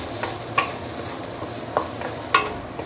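Yam rice stirred in a hot pan, a few scraping strokes of the spatula landing over a steady low sizzle, close by and with no talking.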